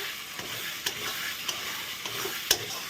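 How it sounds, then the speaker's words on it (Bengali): Spice paste with sugar being stirred and fried in a pan for paneer posto, a soft continuous sizzle broken by a few sharp scrapes and taps of the spoon against the pan. "এখন আবার নেড়ে চেড়ে কষিয়ে নেব"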